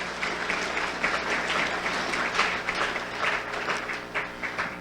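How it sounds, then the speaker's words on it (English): An audience claps in a sustained round of applause at a Prime Minister's address, dense and even throughout, moderately loud and without speech over it. "Could we give them a round of applause?"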